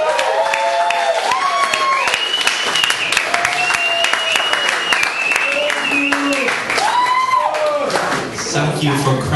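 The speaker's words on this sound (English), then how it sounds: "Thank you for clapping." Comedy club audience at the Ice House in Pasadena clapping and cheering in a lively sustained burst of applause, while a voice speaks loudly over the crowd noise throughout.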